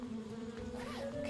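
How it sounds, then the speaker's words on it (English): Bees buzz steadily around a hive in the adventure game Kelvin and the Infamous Machine, a close, droning hum with a shifting pitch and no talking. "Stupid, greedy bees never want to share their honey with anybody."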